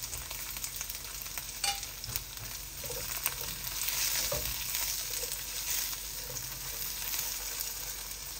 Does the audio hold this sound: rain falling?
no